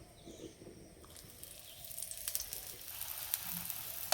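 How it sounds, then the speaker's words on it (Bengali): A paratha sizzles in mustard oil in a hot pan, a soft steady frying hiss with light crackles and small pops, close and fairly quiet, with no one talking. "পরোটাগুলো আমি সরষের তেলে ভেজে নিচ্ছি"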